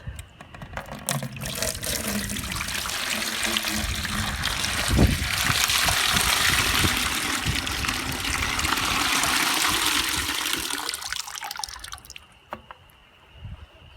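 Water poured and dumped out of a dirty collection bucket in a garden, a steady gushing splash lasting several seconds before trickling off into quiet.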